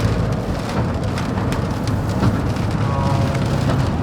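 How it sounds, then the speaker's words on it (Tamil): Heavy rain pours down hard and continuously, a loud, dense hiss of drops close by with no pauses. "பயங்கரமாக வந்து மழை பெய்யுது"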